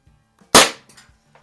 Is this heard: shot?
yes